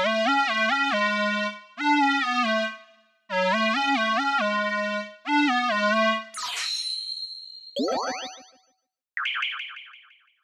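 A square wave synth lead recreates a grime track, playing a bright, buzzy repeating melodic phrase in several bursts, followed by sharp pitch-swept zaps and a warbling tone, with no voices.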